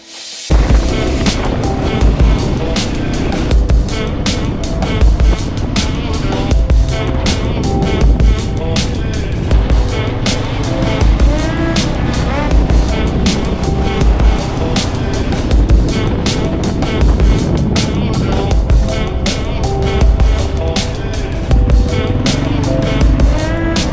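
Quad bikes ride through the countryside with a steady engine drone, punctuated by regular low thumps and bumps, under loud mixed noise throughout.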